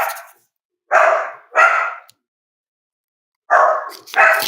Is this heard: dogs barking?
yes